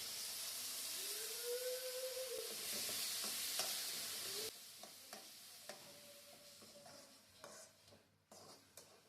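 Tomatoes sauté in a pan with ginger and garlic, a steady soft sizzle and hiss under a few stirring scrapes and taps, the frying noise thinning out in the second half.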